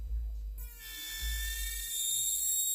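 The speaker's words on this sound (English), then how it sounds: "I'm going to use this drill, and let's get to drilling" A high-pitched electric nail drill whines steadily while filing nails, its tone rising after a brief start, with a low rumble underneath; no talking.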